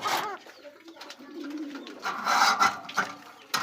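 Pigeons of mixed local and imported breeds coo and rustle inside a market stall, soft low cooing notes rising into brighter scraping and fluttering bursts in the second half, with no voices over them.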